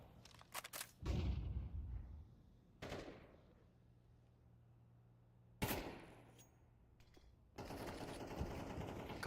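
Gunfire rings out in a professional Counter-Strike match, coming as several separate bursts of rapid shots with reverberant tails and quiet gaps between them.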